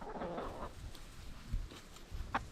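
Backyard chickens pecking at broken-up figs in a permaculture food forest, with soft close clucks and scratchy movement sounds scattered across the moment and a brief brighter call near the end.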